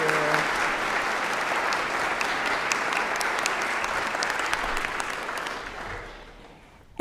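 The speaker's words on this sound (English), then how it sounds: "Could we have another round of applause for Suzanne?" Audience applause for a pianist at the 2019 Muskingum University graduate commencement: loud, dense clapping filling a hall, sustained for several seconds before tapering off near the end.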